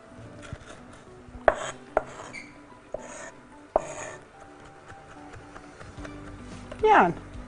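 Garlic being broken apart and crushed for a meatball sauce, a few sharp cracks and thuds against a board, followed by a brief scraping squeeze, close and intermittent, with someone talking quietly around it.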